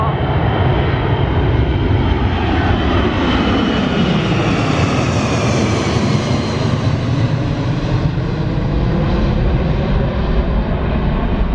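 A loud, steady roar of a large four-engine propeller airplane passing close overhead, swelling and fading slightly over about twelve seconds, with no talking.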